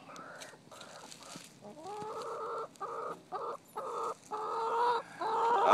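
Chickens and a rooster give a series of loud, close calls and clucks, with several short bursts separated by brief pauses, over light background noise.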